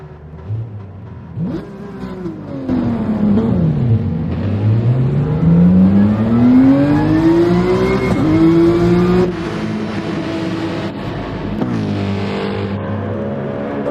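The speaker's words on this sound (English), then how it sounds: "Here they come out on the track at Monza." Race cars circulating at Monza in a racing video game, engines revving high and shifting gears with rising and falling pitch as cars pass, loud and continuous.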